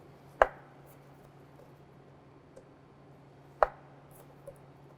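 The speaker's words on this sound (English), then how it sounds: "So just kind of take your knife at an angle, cut down." Two sharp knife chops cut asparagus on the bias against a cutting board, spaced about three seconds apart and quite close, with a faint low hum and a small tap between them.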